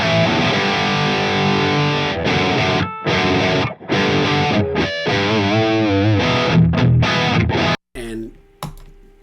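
High-gain electric guitar played through a Fractal FM9 Mark V amp model on channel 3 in 2C Plus mode, loud chugging riffs and sustained notes with short gaps, ending in a few clipped muted stabs.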